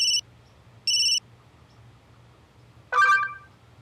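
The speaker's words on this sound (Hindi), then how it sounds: "अनीश का वीडियो कॉल अचानक?" A phone rings with an incoming video call, two short electronic beeps followed by a brighter chiming tone, clear and close against a quiet room.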